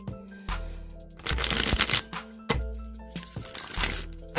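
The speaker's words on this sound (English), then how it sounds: "I'm going to give them one more shuffle for the energies of the upcoming week." Tarot cards being shuffled by hand, with repeated crisp riffling bursts and soft slaps as the deck is cut and squared, close and clear with no talking.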